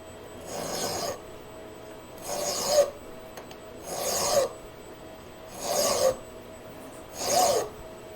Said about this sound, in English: I'm going to use Enos's trick of filing a flat on there